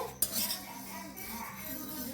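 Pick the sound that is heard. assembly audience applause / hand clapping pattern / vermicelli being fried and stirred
vermicelli being fried and stirred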